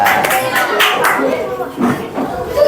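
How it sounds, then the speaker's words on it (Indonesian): A classroom of children claps together, irregular bursts of hand claps with chatter mixed in, close and fairly loud. "Tepuk tangan untuk kita semua."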